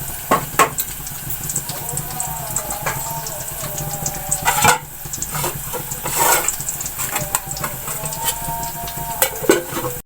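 Garlic paste frying in oil in a pan, a steady sizzle with scattered clinks and stirring scrapes of a utensil against the pan, moderately close.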